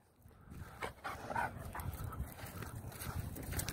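A female wolfdog pants close by in quick, breathy, rhythmic puffs that grow slightly louder, with faint dog whimpers mixed in and no talking.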